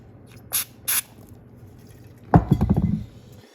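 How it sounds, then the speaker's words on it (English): Carb cleaner sprayed onto a Predator 212 engine flywheel to jet oil out, heard as two short hissing spray bursts followed by a louder, rough spattering burst of liquid, close and with no talk. "I like using the carb cleaner because it kind of jets all that oil out."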